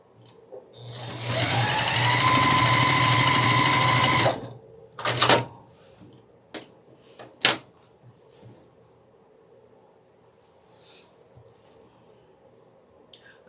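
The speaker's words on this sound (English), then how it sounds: "we're going to take these 2 pairs here and we'll just sew them together" A sewing machine stitching quilt fabric pieces together runs in one steady, loud whirring burst of about four seconds, followed by a few scattered clicks and handling knocks in an otherwise quiet room.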